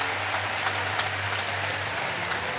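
Steady crowd applause fills the air at the close of a tight rugby match between Spain and Italy, a dense continuous patter of many hands with no voices standing out.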